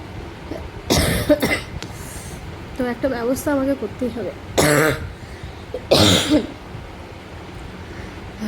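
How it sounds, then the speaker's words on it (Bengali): Repeated harsh coughing from a person with a persistent cough, loud bursts spaced across the clip with someone speaking between them. "প্রচণ্ড কাশি হয়েছে বন্ধুরা কাশিটা কিছুতেই কমছে না"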